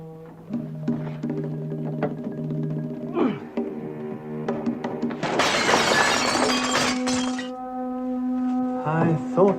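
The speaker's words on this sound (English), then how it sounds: "Forcing the frosted glass door was a ridiculously simple matter for a man of von Moldrick's talents." A frosted glass door is forced and shatters in a loud, crashing burst of breaking glass lasting about two seconds, set against dramatic orchestral music in a 1971 television thriller.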